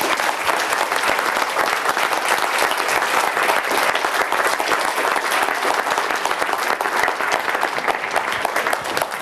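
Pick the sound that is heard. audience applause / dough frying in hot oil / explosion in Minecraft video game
audience applause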